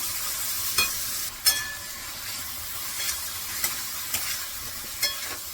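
Hyacinth beans (pavta) sizzle steadily as they are stir-fried in a pan, with a continuous close frying hiss broken by regular scraping strokes of a spatula against the pan.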